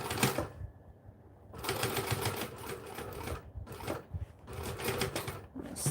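Rapid mechanical chatter of a sewing machine stitching fabric, running in several bursts separated by brief pauses, close and moderately loud.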